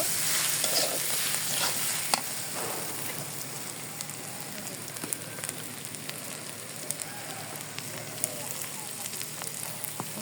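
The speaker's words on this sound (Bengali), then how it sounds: "আদা রসুন পেস্ট দিয়ে এখন ভালো করে ভেজে নিতেছি" Ginger garlic paste fries in a pan, making a steady close crackling sizzle with occasional sharp pops and stirring scrapes throughout.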